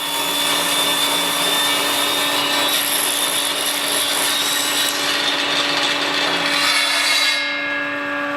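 A power tool trims the rounded corners off freshly made wooden beams for a shed bar room, producing a continuous, loud, close whine and rasp of cutting that holds steady before easing off at the end.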